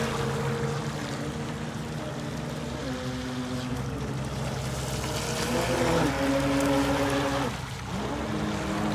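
A small Great Planes vintage model boat's motor whines steadily across the water, its pitch stepping up and down as it speeds and turns, with water hissing underneath.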